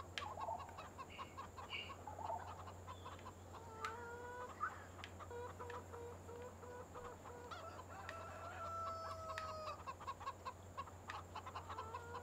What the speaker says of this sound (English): we'll get out here and collect some eggs from our chickens